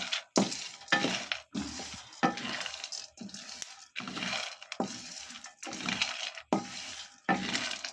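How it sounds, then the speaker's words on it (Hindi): Peanuts being dry-roasted and stirred in a pan, heard as bursts of rattling and scraping that come in repeated strokes with short pauses between them, close up and fairly quiet. "या मैं इसमें मूंगफली डालने लगी। इसकी भी थोड़ी सी बुनाई करेंगे हम।"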